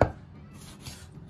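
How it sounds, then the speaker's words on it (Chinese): A kitchen knife chops cleaned squid into thin shreds on a cutting board, one sharp close knock at the start followed by quieter, steady cutting texture, with no voices. "切成丝儿，"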